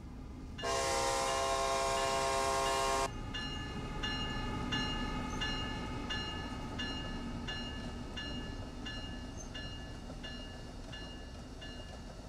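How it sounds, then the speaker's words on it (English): A simulated passenger train on the New York Northeast Corridor in Train Sim World sounds a loud, steady horn blast for about two seconds, then passes with a sustained rumble and ringing tonal hum that slowly fades. "Let's watch train go past, shall we?"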